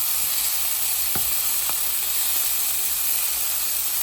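Beef pieces browning in a hot pan for stew give a steady, close sizzle and hiss throughout, with a couple of brief clinks or stirs partway through.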